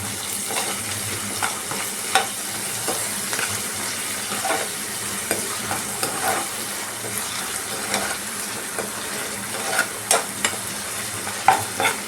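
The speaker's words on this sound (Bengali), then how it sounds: "এবার এটাকে একটু কষাবো" Capsicum with ginger garlic paste sautéing in a pan for aloo dum, a steady close sizzle broken by repeated scraping strokes of a spatula stirring the mix, with no talking.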